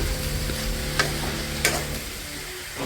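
Capsicum and tomato pieces fry in a pan with a little oil, a steady close sizzle with a couple of sharp clicks as they are stirred, no voices.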